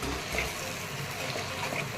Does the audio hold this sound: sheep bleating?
no